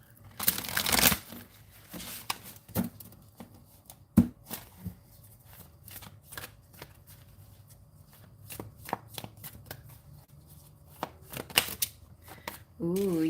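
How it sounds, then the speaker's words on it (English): A deck of cards being broken in is shuffled in scattered bursts of riffling and flicking, quiet and close, with a louder flurry at the start and brief talk near the end. "It's starting to get even easier to shuffle this deck."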